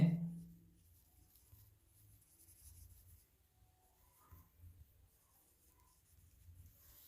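A pen scratches across paper while a formal letter is written, with quiet, intermittent strokes and pauses after a brief louder bump at the start, close but faint.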